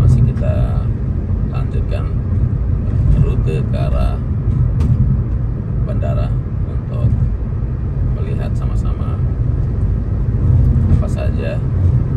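Car cruising along the Mandalika airport bypass road, a steady low road and engine rumble from inside the cabin throughout, with a person talking over it.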